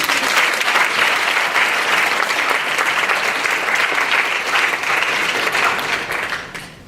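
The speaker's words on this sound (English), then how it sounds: "I'd like to give another round of applause for both Mr. Santos and Mr. Tran." A large audience at an Asian heritage graduation ceremony at Georgetown applauds loudly and steadily, and the dense clapping fades away at the very end.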